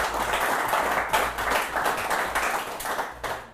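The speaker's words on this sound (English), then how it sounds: "A round of applause to our in-studio guests from the Johannesburg chapter of the Young Presidents Organization." Studio audience applause for in-studio guests from the Johannesburg chapter of the Young Presidents Organization, a dense, lively round of clapping that stays loud throughout, with some sharp individual claps near the end.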